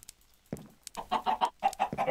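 A chicken in a farm animal video game clucks in a quick series of close, loud, choppy calls after a brief sharp note, with no talking.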